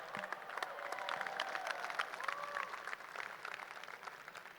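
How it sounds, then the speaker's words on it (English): Applause and cheering from Washington State basketball fans at a Selection Show watch party in Pullman, a steady roomful of clapping with scattered whoops, mid-distance and sustained throughout. "Coug fans, let's hear it for the All Pac-12 honorable mention, Jalen Wells."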